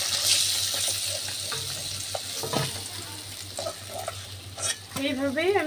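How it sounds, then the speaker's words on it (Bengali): Rohu fish frying in oil in a pan: a loud, continuous sizzle runs throughout with intermittent spatula scrapes and turning sounds close by. "এইভাবেই আমি বাকি মাছগুলো ভেজে নেব"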